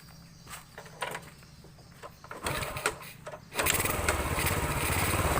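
A motorcycle engine with a carburetor fault that sprays fuel when throttled is started close by. Soft clicks and mechanical clatter lead into the engine catching and settling into a fast, buzzy idle.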